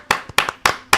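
Several short bursts of hand clapping, four distinct sharp claps spaced about a quarter second apart, close and fairly loud, following a singalong performance.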